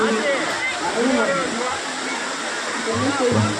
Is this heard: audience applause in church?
no